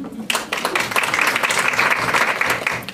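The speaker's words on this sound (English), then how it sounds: "a round of applause for our panel" An audience at a healthy-eating session applauds the panel, a full, steady round of clapping from a seated crowd that rises quickly and holds, with a faint voice underneath.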